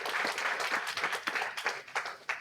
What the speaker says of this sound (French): Je pense qu'on peut encore l'applaudir une fois.